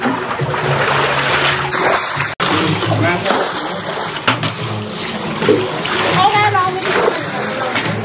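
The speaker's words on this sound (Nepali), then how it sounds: "खतरा यहाँ पानी फालिरहेको अवस्था हो" Water splashing and sloshing as a garden fountain in a rose garden is cleaned, irregular nearby splashes and trickles running throughout while people talk over them.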